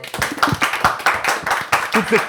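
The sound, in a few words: audience applauding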